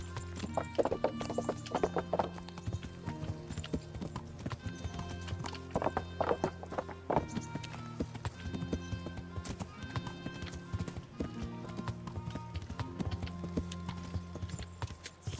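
Horse hooves clip-clop in a steady rhythm, with occasional whinnies, over a continuous musical background, in the video game Kingdom Come: Deliverance.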